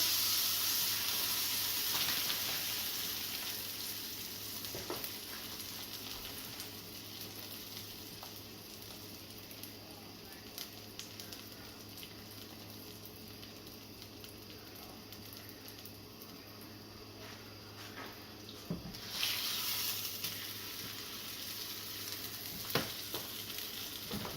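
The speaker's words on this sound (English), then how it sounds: "Dip the corn tortilla in the juice. Heat up the tortilla." A corn tortilla dipped in carnitas cooking juice heats in a pan, hissing and sizzling steadily up close, loudest at first and then settling, with a few small pops and clacks.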